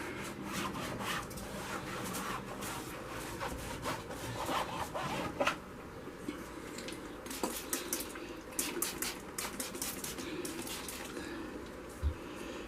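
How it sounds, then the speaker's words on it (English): Hands rub distilled water into a painting canvas in quiet, rhythmic scrubbing strokes, soft and close with a few small taps. "And as you rub that in, work it in, let it run down here to the bottom."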